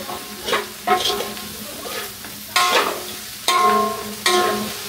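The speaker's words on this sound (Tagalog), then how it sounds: "Yan, haluin nyo lang" Pork dinuguan is stirred in a pan, giving repeated scraping strokes about once a second over a soft sizzle, close and clear, with no talk.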